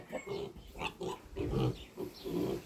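Pigs fighting, squealing and grunting in a rapid, agitated series of bursts, close by and fairly loud, with no talking.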